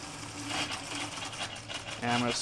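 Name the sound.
pressure washer engine and pump running at half throttle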